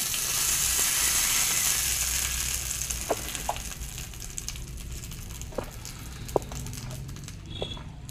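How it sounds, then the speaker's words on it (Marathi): Cumin, mustard seeds and curry leaves tempering in hot oil give a steady, fairly quiet sizzle, broken by a few sharp pops and crackles near the end, with no talk. "जिरे, मोहरी आणि कढीपत्त्याची फोडणी आहे"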